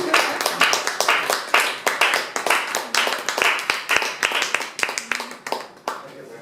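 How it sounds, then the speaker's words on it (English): Audience at a Toastmasters club meeting clapping in a round of applause, a handful of people whose individual claps are distinct and rhythmic, fairly close, tapering off toward the end. "Let's do the big round of applause."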